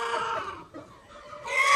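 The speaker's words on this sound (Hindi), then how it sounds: "तो ये मुर्गी अपना दाना पानी क्लियर करती है" A hen clucks on a small farm where goats and rabbits are also kept, close to the mic, with a brief dip in the middle of the short stretch before the sound rises again.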